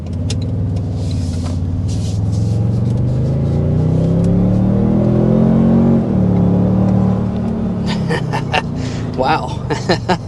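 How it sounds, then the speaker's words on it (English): A 2025 Toyota Sequoia under hard acceleration, engine note climbing loudly in pitch over several seconds before a brief shift dip and continued pull, heard from inside the cabin, with a voice near the end. "first we want to go ahead and start with a hard acceleration."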